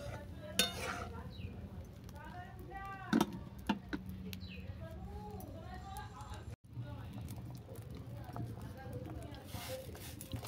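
A puffed-rice sweet mixture with butter is gently stirred in a pot, giving soft scraping and a few light clinks against steady background noise.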